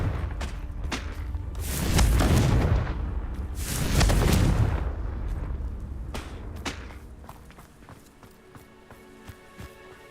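In Hogwarts Legacy, a Confringo blast spell erupts in two heavy booming explosions a couple of seconds apart, followed by fading rumble and lighter thuds and clicks.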